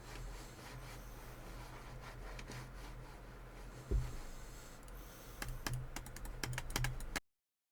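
EVGA X20 mouse dragged across a mouse pad, a soft continuous rubbing swish, then a thud and a burst of sharp rapid clicks near the end, close and quiet, no voices.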